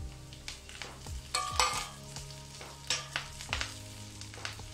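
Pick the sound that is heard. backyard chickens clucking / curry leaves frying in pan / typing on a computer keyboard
curry leaves frying in pan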